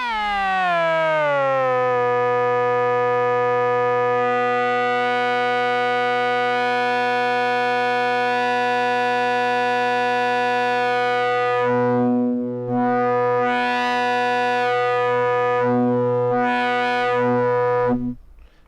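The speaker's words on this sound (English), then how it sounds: "what you've just heard is a constant drone" A loud, sustained synth drone rich in harmonics, steady at first, then warbling and sweeping in tone through a Farbshaper effect before cutting off.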